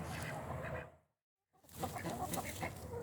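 Chickens cluck and murmur close by in two bursts separated by a brief silent gap, the soft calls overlapping at moderate loudness.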